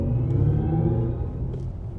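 Synthesized drive sound of a BMW iX M70 electric car while driving on the road: a steady, close, low tonal hum with layered harmonics that holds throughout and eases slightly toward the end.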